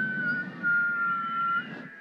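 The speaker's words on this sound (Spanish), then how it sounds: "Vamos a ver quién sabe silbar." Whistling at a church sermon, a steady sustained pitch held for about two seconds against low background murmur in a large room.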